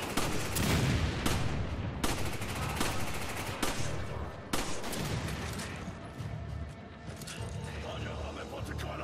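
Rapid gunfire from a Resident Evil 5 shootout, dense bursts of loud automatic shots and sharp single cracks repeating throughout, with game sounds layered over them.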